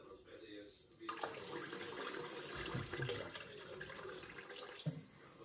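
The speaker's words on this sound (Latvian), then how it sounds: "Iepildam drusku ūdeni" Water runs into sausage casings as they are filled and rinsed, starting after a quiet moment and then flowing as a steady close splashing gush, with a couple of soft knocks.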